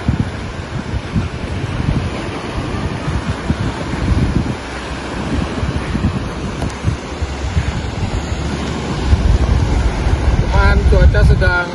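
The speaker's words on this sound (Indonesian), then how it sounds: "Inilah pantai Ujung Pandaran." Surf rolling onto Ujung Pandaran beach near Sampit on a cloudy, drizzly morning, a steady wash of waves under gusty wind buffeting the microphone, with some voices faint in the background.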